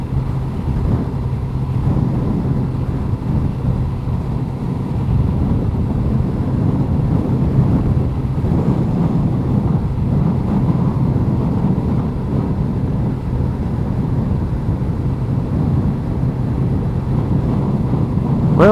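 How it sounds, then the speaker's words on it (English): Steady, loud wind roar buffeting the microphone during a motorcycle ride along a country road, a dense continuous rush with no talk over it. "It's a little windy today."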